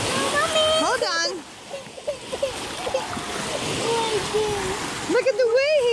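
Waves splash and slosh around a kayak on open water, a steady wash under excited children's and adult voices, with a louder splash near the end.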